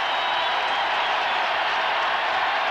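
A stadium crowd at the 1994 South Carolina versus Clemson college football game, a dense, loud, steady roar of cheering with no breaks.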